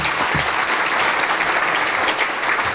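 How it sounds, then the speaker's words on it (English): A room of attendees at a Tri-City Regional Chamber of Commerce meeting gives a round of applause for elected officials. Thick, continuous clapping fills the whole clip at an even, loud level. "help me in a round of applause thanking our elected officials for joining us today"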